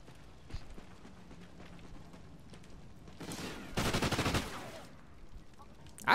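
Multiplayer gunfire in Call of Duty: Ghosts, a faint scattered shot early on and then a loud rapid burst of automatic fire around the middle, without talk.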